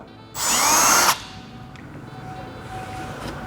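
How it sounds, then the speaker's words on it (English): A power drill with a 5/32 bit whirs loudly for about a second as it bores through a front splitter endplate on a Mk5 Toyota Supra, then stops, leaving quiet background noise. "take a 5/32 drill bit and drill through them"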